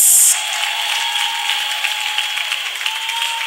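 A church congregation claps in worship, a steady, even roar of many hands with a faint ringing tone beneath, following a brief bright burst at the very start.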